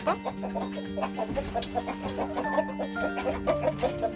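Araucana-type chickens kept in a backyard coop cluck nearby, a busy run of short, rhythmic clucks and murmurs from several birds over a low steady hum.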